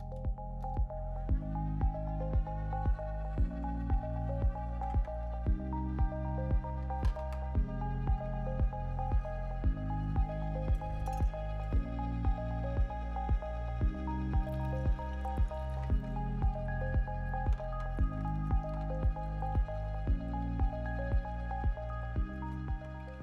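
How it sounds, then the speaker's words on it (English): A Sana Supreme 727 juicer processes watermelon at fast speed with a fine screen, giving a close, rhythmic series of wet squishing pulses and drips repeating about every second over a steady motor hum, with no talk. "Watermelon should juice pretty easily in most any juicer because it's got such a high liquid content."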